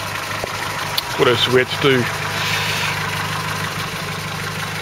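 A Land Rover Series 3 engine runs at a steady idle, a constant low hum heard close up, while someone talks briefly over it near the start.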